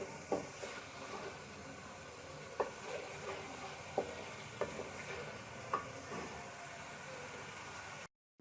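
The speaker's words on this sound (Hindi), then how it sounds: "अच्छे से इसे मिक्स कर लेंगे और मसाला अच्छे से भून लेंगे।" Masala for a taro (arvi) curry is stirred and fried in a pan, a soft steady sizzle broken by occasional scraping clinks of the spoon, fairly quiet and with no talking, ending in a sudden cut.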